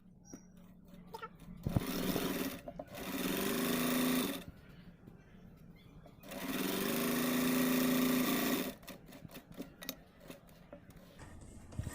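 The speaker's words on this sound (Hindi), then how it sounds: "मैं उल्टी तरफ इसमें ये 9 इंच वाली लाइन सिलाई लगाऊंगी" Sewing machine running in two sustained bursts of stitching along a seam of a crop top, loud and steady, with quieter handling noises and brief pauses between runs.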